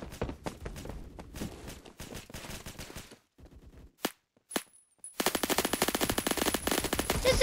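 Suppressed gunfire in the Roblox game Phantom Forces sounds as rapid bursts of muffled automatic shots, a short lull with a few isolated pops, then a sustained fast volley at the end.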